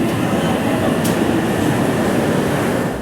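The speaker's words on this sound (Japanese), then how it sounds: "快速豊橋行きが到着いたします" A rapid train bound for Toyohashi rumbles loudly into a station, with a continuous clatter and rolling roar that eases slightly at the very end.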